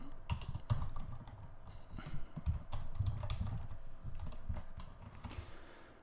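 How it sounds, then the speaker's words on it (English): Fast typing on a computer keyboard: a dense run of close, clattering key presses with uneven rhythm, fairly quiet and without speech. "Am I killing my keyboard again?"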